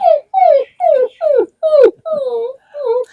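A person's voice imitates a mother dog barking, in a series of seven yelping, whimpering calls with short pauses between them, close and loud.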